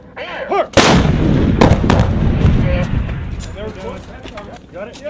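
An M777 155mm towed howitzer fires with a single huge blast early on, followed by a long rumbling decay and echo, while crew members shout commands nearby.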